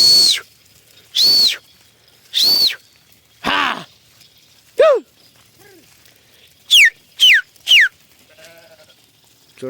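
A grazing flock of sheep giving loud, close bleats, several in a row and then a quick cluster of calls, separated by quiet pauses with faint field background.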